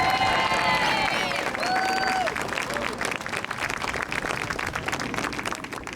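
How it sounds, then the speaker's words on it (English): Crowd applauding at an outdoor Veterans Day ceremony in Fairhaven, Massachusetts, steady clapping that fades slightly after a few seconds, with a voice briefly audible at the start. "Let's give Jerry a round of applause."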